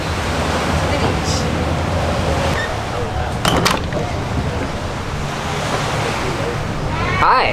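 Ocean waves wash onto a beach on the Phi Phi Islands in a loud, continuous surf roar with some wind buffeting the microphone.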